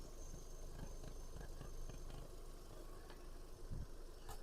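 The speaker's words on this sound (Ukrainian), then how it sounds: "Мотор працює тихо рівно" A 2009 Volkswagen Passat B6 1.6 MPI engine idles steadily and quietly, a low even rumble with faint ticking, nobody speaking.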